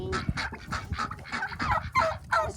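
A farm rooster makes a run of short, rough clucks and squawks, close and fairly loud, with a steady burst of calls through the whole stretch and no talking over it.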